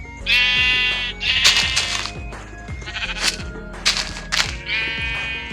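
Several sheep bleat in quick succession, loud and close, each call a wavering cry with short gaps between, alone without talk.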